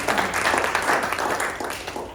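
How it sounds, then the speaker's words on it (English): An audience at a community event about pill testing claps together, a dense burst of applause that holds for a couple of seconds and then fades slightly. "A round of applause."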